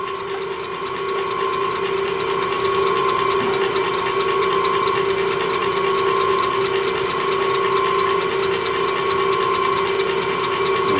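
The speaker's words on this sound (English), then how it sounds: "Let's turn that on. Wait out that it's full whack." A Myford ML7 lathe motor on a VFD runs at full speed with a loud, steady electric hum and whine, spinning up briefly at the start and then holding an even, continuous drone up close with no speech.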